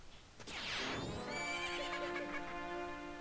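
Horse in Zelda: Majora's Mask lets out one loud, long whinny that sweeps down in pitch and then holds wavering and close, with faint hoof clops beneath it.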